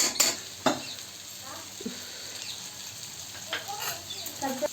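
Whole spices (cinnamon, fennel, cloves) sizzle in melted butter in a pan, with a soft continuous frying hiss broken by a few sharp scrapes and clicks of a utensil stirring.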